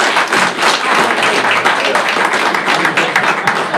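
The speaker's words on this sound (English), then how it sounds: "we'll give a nice round of applause for Gracie Bean" An audience at a school board meeting gives a loud, steady round of applause that continues without a break, full of overlapping claps close by.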